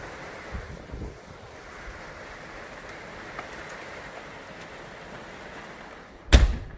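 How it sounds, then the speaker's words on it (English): Heavy rain falling outside a garage workshop makes a steady, soft, broad hiss throughout, with a few faint taps and one sharp, loud close knock near the end. "the noise you're hearing on the background is because outside it's raining very hard."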